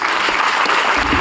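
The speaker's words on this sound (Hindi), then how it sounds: "माँ के लिए जोरदार ताली बजाओ।" An audience claps loudly and steadily at an indoor talk, the dense applause holding at full strength throughout the short burst with no voices over it.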